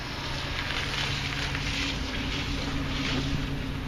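A vehicle engine and exhaust with a freshly repaired muffler rumbles steadily and fairly loudly for a few seconds, a low droning hum under broad rushing noise, with no voices.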